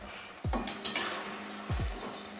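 A spatula mashes boiled tomatoes in a metal pan, producing a couple of distinct scraping clanks against the pan over a soft background sizzle, close and without talking.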